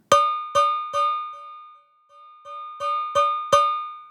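Cowbell hits from a Cowbells Complete software plugin ring out in a rhythmic pattern, loud clanging strikes separated by softer muted taps and a short pause, each with a bright metallic ring.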